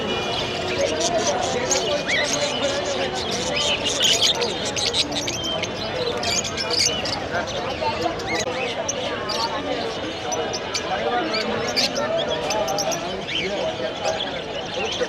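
A crowded bird market at Tongi, with many small birds chirping continuously amid dense crowd chatter and bustle, loud and close throughout.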